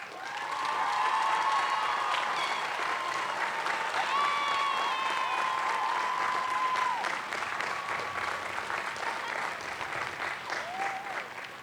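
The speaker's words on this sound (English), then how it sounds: "Let's give them a round of applause." A large commencement audience applauds the university faculty, a steady, dense wash of clapping throughout with faint cheers and a few whistles rising above it.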